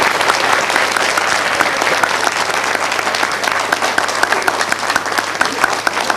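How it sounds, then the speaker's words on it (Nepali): An audience at a spiritual discourse applauds to welcome a speaker, sustained dense clapping from many hands, loud and steady throughout. "जोरदार तालीले उहाँलाई स्वागत गरौँ।"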